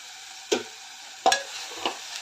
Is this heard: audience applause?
no